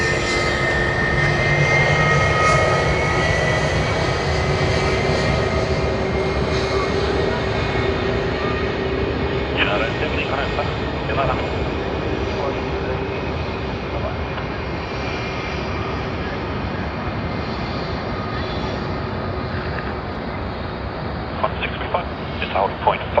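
Aircraft engines at Sydney Airport roar in a broad, steady rumble throughout, heard from a distance with a slowly shifting tone and a few faint clicks near the end.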